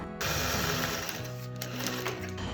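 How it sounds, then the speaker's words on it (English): A sewing machine stitches beeswax-coated fabric through parchment paper, running as a fast, steady mechanical whir with rapid needle clatter that stays loud and close for the whole stretch, with no talking. "Sometimes the wax will kind of mess up what your sewing machine tension's like."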